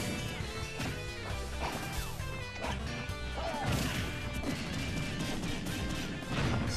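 Smash attack hits crash out in a Super Smash Bros amiibo tournament battle, loud impact thwacks and crashes layered over busy game music and effects, dense and continuous for several seconds.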